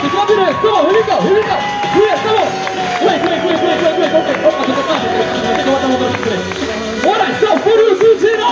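A dense, loud crowd cheers and applauds throughout for a DJ and break dancer at a live street performance, with a steady wash of claps and shouts under some talk and music.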